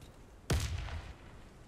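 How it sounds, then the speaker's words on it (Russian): One sudden, heavy grenade blast in Warface, deep and close, fading over about half a second with no talk. "Граната."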